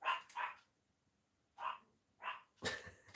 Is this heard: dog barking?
yes